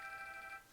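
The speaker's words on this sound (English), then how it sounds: "my phone is ringing whenever I'm trying to do something" A phone ringing indoors, a faint steady electronic ring tone that holds for about half a second and then stops, with no talking over it.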